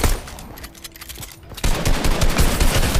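Rapid video game gunfire bursts loudly through the first half-second, easing into a muted stretch before dense, broadband shooting returns strongly for the final second and a half, with no talk.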